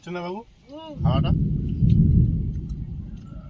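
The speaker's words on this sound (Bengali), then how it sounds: "আকাশ ডাকছে" A voice speaks briefly, then a deep, rolling rumble of thunder swells and slowly fades.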